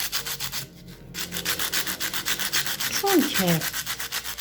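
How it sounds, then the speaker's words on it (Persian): Folded sandpaper rubbed by hand over a turquoise-inlaid jewelry piece gives close, steady back-and-forth scratchy strokes in an even rhythm, with a brief voice cutting in near the end. "سنباده بزنید."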